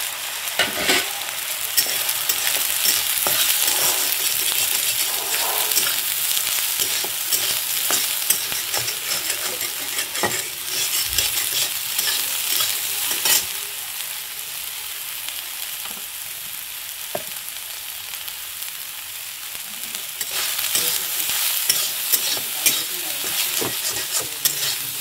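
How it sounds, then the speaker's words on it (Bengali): Soybean chunks frying in hot oil in a home kitchen, a loud, close, continuous sizzle with scraping stirs and clinks of the utensil throughout, surging louder toward the end. "এখন এই যে সয়াবিনটাকে ঢেলে দেবো।"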